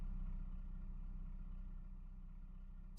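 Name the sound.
homemade vehicle engine idling quietly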